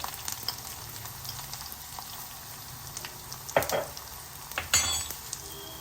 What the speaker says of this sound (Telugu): ఆవాలు చిట్పట్ అంటున్నాయి కదా